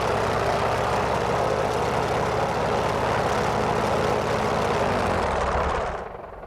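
Grumman F4F-4 Wildcat radial engine running up in Microsoft Flight Simulator, a loud, steady, dense roar held for several seconds that drops away near the end as the throttle comes back.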